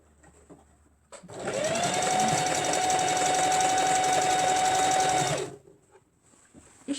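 A sewing machine stitches short pants in one steady whirring run of about four seconds, starting and stopping abruptly, loud and close with a constant motor hum and no talk.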